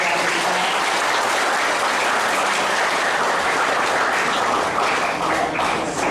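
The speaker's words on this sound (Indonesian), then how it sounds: "kita memberikan tepuk tangan dan" Congregation applauding during a Christmas family Mass in a church, sustained dense clapping from many hands at an even, fairly loud level with no talk.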